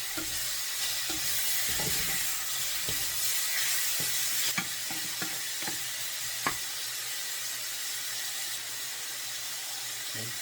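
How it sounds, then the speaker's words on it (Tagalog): Steady sizzling of pork belly frying in a pan with pepper, with scattered scraping and clinking of a utensil stirring, close up and without talk. "Halo ulit."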